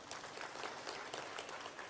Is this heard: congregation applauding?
yes